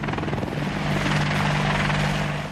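Military helicopter, a Huey or an Apache Longbow, heard as a loud, close, continuous rotor thrum with steady engine whine throughout, no voices.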